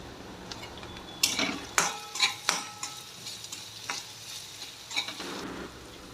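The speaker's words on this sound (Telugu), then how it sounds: "తగినంత పసుపు వేసుకొని కలుపుకోవాలి." A spoon stirs sesame dal with salt and turmeric in a metal pan, giving repeated close scraping strokes and clinks over a soft sizzle, with no voices.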